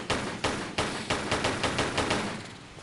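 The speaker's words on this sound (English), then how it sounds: "Is the gunshot too loud?" Rapid gunshots in a video game, about ten sharp cracks fired in quick succession at a steady rhythm, fairly loud and close, with no talking.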